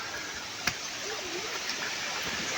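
Continuous broadband rushing of a small waterfall near rice fields, steady and fairly loud, with one brief click partway through.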